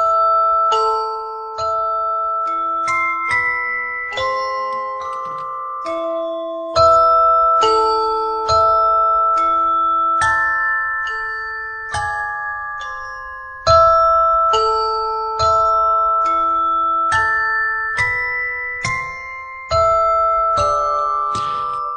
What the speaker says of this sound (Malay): dia akan ada bunyi macam musical box